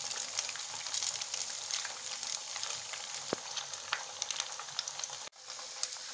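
Suji kachori deep-fry in hot oil with a steady, soft crackling sizzle, scattered pops and one sharp tap near the middle, then a brief dip before the sizzle returns.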